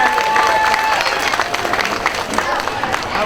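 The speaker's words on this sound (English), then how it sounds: "So a big another round of applause." Crowd at a community entertainment event applauding and cheering, loud sustained clapping mixed with whoops and a background murmur of voices, steady for the full stretch.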